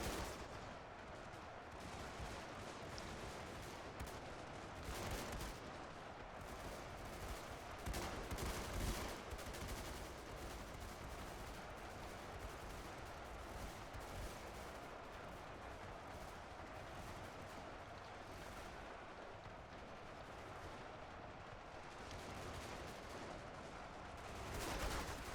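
Massed musket volleys from a huge French-versus-British line battle in Ultimate Epic Battle Simulator 2, a dense, continuous crackle of overlapping shots that rolls on steadily for the whole stretch with no talking.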